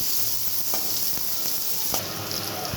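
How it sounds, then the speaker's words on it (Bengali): Hog plums fry in oil with mustard for a poppy-seed chutney, a loud continuous hiss and crackle close up, with a few soft stirring knocks. "আমড়াগুলোকে তেলে একটু ভাজা ভাজা করে নেব"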